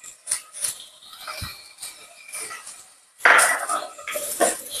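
A spoon scrapes and clinks against a cooking pot while mung beans with tomato and garlic are stirred, giving irregular metallic taps and scrapes with quiet gaps, then a denser burst of clatter near the end.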